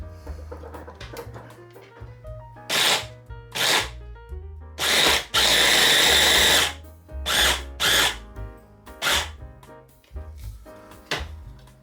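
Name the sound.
blender grinding chicken breasts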